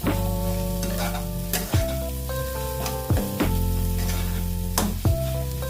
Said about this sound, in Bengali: ভালো করে মিক্সড করে দেবো।